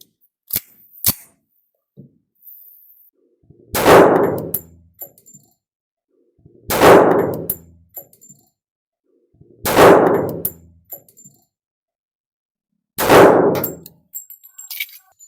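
A pistol fires four single shots on a range while being zeroed, each a loud sharp crack with a short ringing tail, spaced about three seconds apart, with a couple of faint clicks beforehand.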